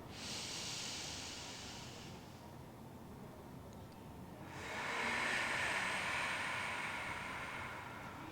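Deep yoga breathing, a long drawn inhale followed after a pause by a fuller, louder exhale of rushing air, close and breathy, with no speech.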